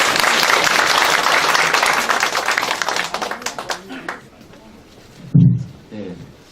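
Applause from a forum audience in a conference hall, a dense burst of many hands clapping that fades out after a few seconds, followed by a brief thump and a voice speaking.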